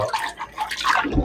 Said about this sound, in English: we're going to rinse that out before we put it back in there